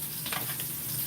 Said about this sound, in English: So yeah, we just frying them on up.